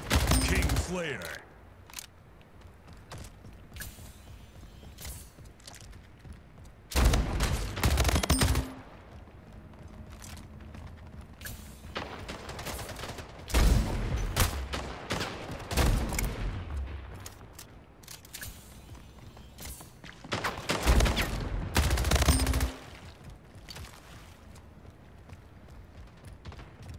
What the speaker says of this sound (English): A lot of bullets.